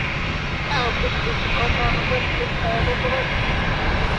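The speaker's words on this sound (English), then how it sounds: "Geneva Airways. Citation CJ2." A Cessna Citation CJ2 business jet at London City Airport gives a steady, loud engine roar. People talk over it throughout.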